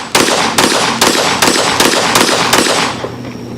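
A Smith & Wesson M&P .22 Mag 2.0 pistol firing a string of seven loud, sharp shots at a steady pace about half a second apart, close up, then a quieter tail once the shooting stops.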